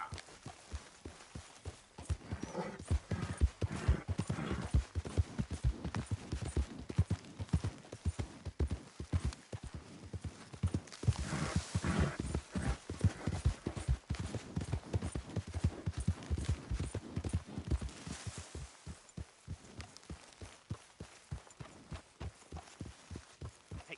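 A horse's hooves clip-clop in a steady, brisk rhythm in the video game Red Dead Redemption 2, close and clear for the whole stretch.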